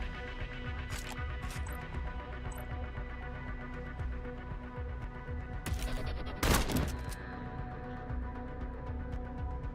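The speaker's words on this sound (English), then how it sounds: "I tried to shoot and just got shot back" Gunfire exchange in the tactical game Cyber Knights Flashpoint, with overwatch shots answered by return fire; rapid bursts and scattered single shots over a busy, steady background, peaking in a loud cluster of blasts midway, with no talking.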